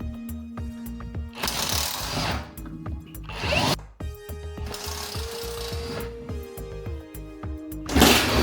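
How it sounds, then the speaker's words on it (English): A power sander works a shock absorber during a Golf GTI restoration: harsh buzzing bursts of abrasive grinding with a steady motor whine, starting and stopping in several close, loud runs separated by brief pauses. "I'll sand this down and hopefully we'll get a nice finish from it"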